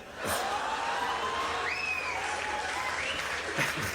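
Comedy club audience gives a sustained round of applause throughout, with a few whoops rising above the clapping near the middle and a couple of louder bursts toward the end.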